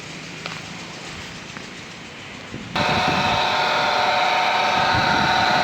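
A 2018 Tata Tiago XT petrol car idles faintly at first, then the engine noise rises abruptly to a steady, close, even hum that holds to the end.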